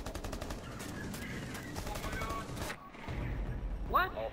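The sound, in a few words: gunfire in the video game Rainbow Six Siege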